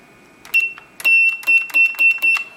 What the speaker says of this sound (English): I also have a powder level alarm